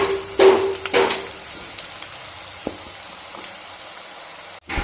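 Garlic and hing fry in oil for a tempering, giving a soft crackling sizzle with a few louder bursts and clinks early on, then a quieter steady hiss.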